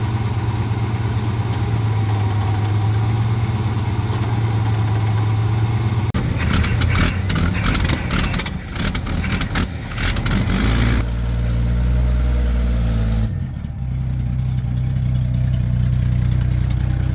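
Chevrolet C10 pickup with a 250 inline-six, jump-started, its engine idling steadily, then cranking and revving loudly before settling back to a rough idle.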